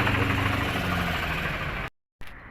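A 2004 Sonalika 730 tractor at a tractor market gives a loud, steady diesel rumble close by. It cuts out abruptly near the end, then returns briefly.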